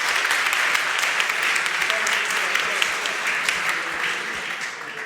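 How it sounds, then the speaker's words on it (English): Sustained applause from a conference audience for the debaters after a debate, dense steady clapping filling the hall throughout at an even level. "Give them a round of applause."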